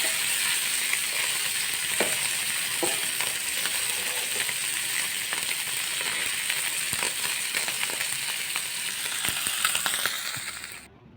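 Constant bright sizzle of food frying in a pan, with scattered small clicks and crackles, steady and close before fading at the end.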